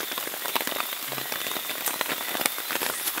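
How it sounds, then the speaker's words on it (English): Rain falling steadily on a surface with scattered drips, a dense even patter with sharper drop hits throughout, no voices. "We woke up to the rain."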